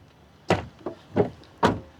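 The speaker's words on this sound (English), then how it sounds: "That's a weird way to open and close the door." Chrysler 200 convertible door closing in distinct stages, a run of four solid thumps and clunks spaced about half a second apart, fairly close and loud against a quiet background.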